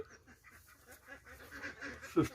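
Ducks quack softly in a cluster at a low duck house during egg collecting, a few nasal calls overlapping against a low background, with one louder quack near the end.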